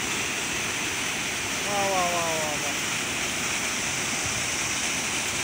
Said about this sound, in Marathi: इथून पाणी कसं पडायला.